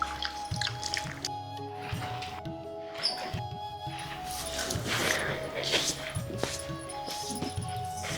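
Mutton pieces being washed by hand in water, with splashing, dripping and squishing sounds close up, in a steady run of wet handling, with some voice in the background.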